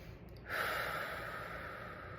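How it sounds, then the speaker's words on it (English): A big, deep breath drawn in during a calm self-compassion exercise, a single long airy inhale that starts after a brief pause and carries on softly to the end. "We might just take that real big breath."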